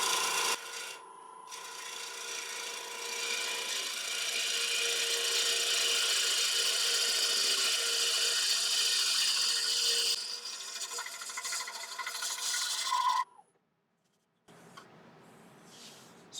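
A woodturning lathe gouge shaves the inside of a punky, cracked hornbeam bowl, a steady scraping rasp for about thirteen seconds that stops abruptly, leaving a quieter motor hum.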